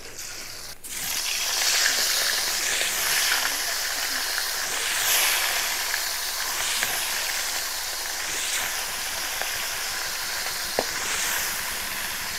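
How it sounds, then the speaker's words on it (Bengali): Rohu fish pieces rubbed with salt and turmeric fry steadily in hot oil, a continuous bright hiss and sizzle that holds level throughout, with no talking. "এবার মাছগুলো ভেজে নেব।"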